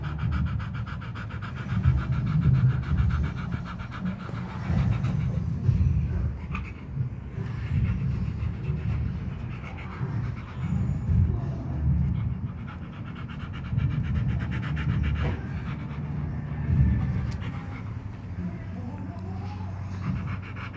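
A dog pants steadily and rhythmically up close for the whole stretch, with a person speaking affectionately to it at times over the breathing.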